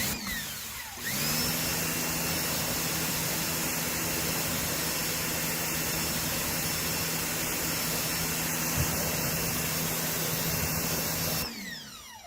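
A Sun Joe pressure washer whines up to a steady, loud high-pitched hum with hissing spray for about ten seconds, then winds down and stops.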